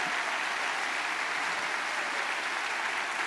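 A church congregation claps loudly and continuously for a few seconds, a dense, even wash of applause filling the room with no voices over it.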